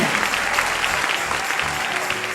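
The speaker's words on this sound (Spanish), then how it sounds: "Dale un aplauso al Rey en esta preciosa y hermosa noche." A congregation at an evening church service applauds together, a dense, steady wash of clapping filling the room at close range for a couple of seconds with no break.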